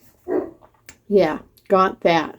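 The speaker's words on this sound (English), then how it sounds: "I'm sorry if you hear barking, guys. That is the neighbor's dog." A neighbor's dog barks a few times in short, separate bursts, somewhat distant, while a person speaks briefly in the room.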